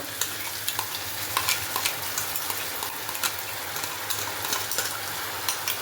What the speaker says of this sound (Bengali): এর মধ্যে আমি যে পটলের দানাগুলো পেস্ট করে নিয়েছিলাম মিক্সিতে ওটা দিয়ে দেবো